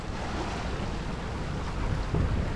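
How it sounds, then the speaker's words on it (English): Wind rushes steadily over a sailing boat making good progress in 17 to 22 knots on a passage from Tobermory to Gigha, a low, continuous buffeting roar close to the microphone that swells slightly near the end. "Wind!"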